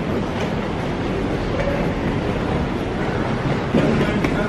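Steady, loud rumbling wash of a train at Nürnberg station, continuous broadband noise with no clear breaks and no talk.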